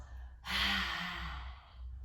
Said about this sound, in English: we're going to take some few rounds of lion's breath, which is a nice detoxifying breath, getting rid of all that stale air in the lungs